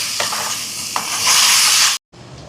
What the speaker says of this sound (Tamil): வெங்காயம் எல்லாம் வதங்கிட்டு தக்காளி பழம் சேர்ப்பான்